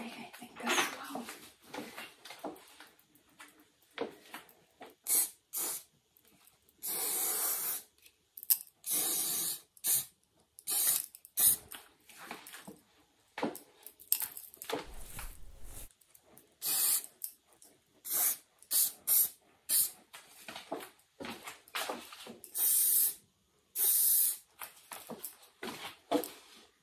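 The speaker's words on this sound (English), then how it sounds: "Just a little bit of spray, I think, as well." Hair spray hissing onto a wig in quick, close bursts, some short and some sustained, separated by quiet gaps in an intimate setting.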